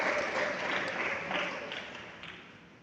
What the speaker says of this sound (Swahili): Makofi jameni.